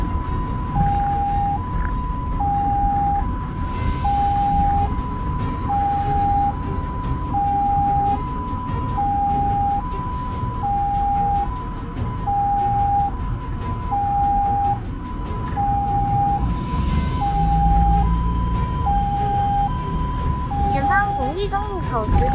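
An ambulance siren wails in a steady two-tone alternating pattern through a Chinese city during morning rush hour, heard from inside the emergency vehicle, with traffic rumble and voices talking beneath it.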